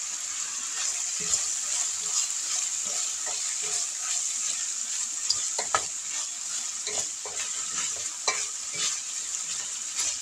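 Steady sizzling of sliced sausage rounds frying in a pan, a continuous bright hiss with small pops and occasional stirring clicks throughout.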